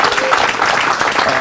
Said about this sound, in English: I think we owe them a resounding round of applause.